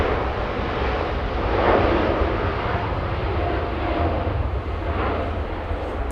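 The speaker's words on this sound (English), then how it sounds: "At 777, just a few seconds away from touching down." A Lufthansa Boeing 777 comes in to land at Los Angeles International Airport with a loud, broad jet engine roar that holds steady throughout, with a light rush of wind on the microphone.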